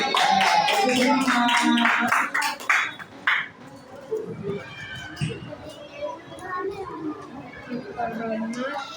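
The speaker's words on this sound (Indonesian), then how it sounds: "tepuk tangan buat Lutfi." Sixth-grade pupils in an elementary classroom clap together in a brisk burst for a classmate for about two seconds, then the clapping falls off into children's chatter and voices.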